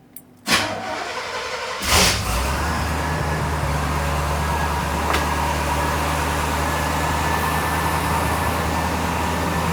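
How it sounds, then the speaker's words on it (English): A car engine cranks briefly with a rapid whirring starter, catches with a loud surge, then settles into a steady, close idle with a low hum. "let's give it a crank over and see what the voltage does"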